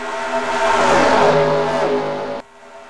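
Stock cars in the NASCAR Racing 2003 sim roar past running three wide, engines droning loud and close in a layered, rising then fading whine before cutting off abruptly.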